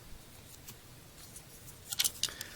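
A blade or scissors snips a small decal for a 1/64 scale NASCAR diecast of a 2016 Kyle Busch #18 NOS Xfinity car, quiet handling noise followed by a few crisp close cuts near the end.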